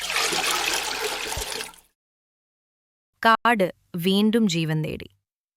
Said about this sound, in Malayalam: എല്ലാവരും ഒരുമിച്ച് പ്രവർത്തിച്ചതിനാൽ വെള്ളം വീണ്ടും ഒഴുകി തുടങ്ങി.